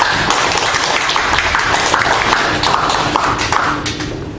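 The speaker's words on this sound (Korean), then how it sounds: "우리 박수 한번 드리겠습니다." Church congregation applauding during a Sunday sermon at a Korean church, a dense, steady wash of many hands clapping that fills the space for several seconds before thinning slightly at the end.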